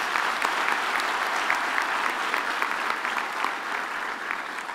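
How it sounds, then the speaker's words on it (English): A graduation ceremony audience claps in steady, sustained applause that fills the hall for several seconds, broad and even with no speech over it. "Let us give her another round of applause."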